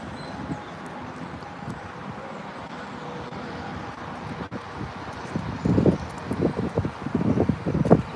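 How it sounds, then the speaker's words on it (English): Wind gusts buffet the microphone on a walk south along Troost Avenue near 50th Street, a steady broadband rush that swells into louder, choppy bursts in the second half, with faint roadway noise underneath. "And the wind's in my face again."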